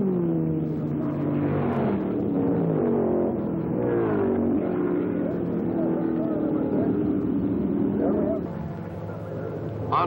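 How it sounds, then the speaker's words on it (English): A Chevrolet-engined Chaparral race car roars down the back straight at about 150 mph during the 1963 Riverside Grand Prix, a loud sustained engine howl with shifting pitch, under a commentator's voice. "Hall's powerful Chevy engine Chaparral shows the way at 150 miles per hour"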